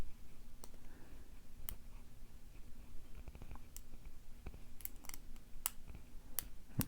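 Sharp, sparse clicks from a lock pick setting pins in a Tahoe Picked split core challenge lock, close and quiet, spaced irregularly over a faint steady hum with no talking.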